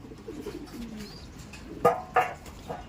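Pigeons coo softly while feeding, with two clearer, louder coos standing out near the end over a quiet, slightly noisy outdoor background.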